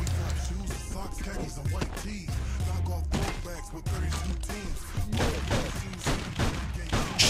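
Gunfire rattles out in the Final Fight Streetwise video game, rapid bursts of sharp shots layered over game music and effects, dense and loud across several seconds.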